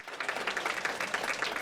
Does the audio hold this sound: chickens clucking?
no